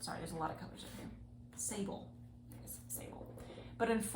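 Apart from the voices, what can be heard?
No distinct noise like a dog, phone or traffic.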